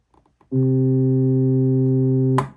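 A single sustained pipe organ note on the Octave 8' stop, bright with rich upper harmonics, holds steadily for about two seconds before a brief clunk.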